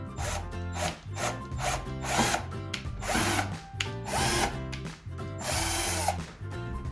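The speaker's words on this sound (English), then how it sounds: "We're just going to drill 4 holes in the corners here" A power drill bores holes into a piece of wood in a series of loud whirring bursts with short pauses between, close and alone with no talk.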